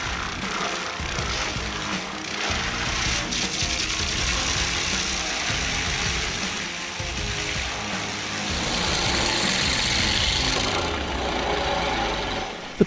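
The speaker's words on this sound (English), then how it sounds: "The power of this Vortex skid steer tree stump grinder makes tree root removal simpler and faster" A Vortex skid steer tree stump grinder runs steadily, its engine producing a continuous, loud, rough mechanical drone with grinding vibration that swells slightly toward the end.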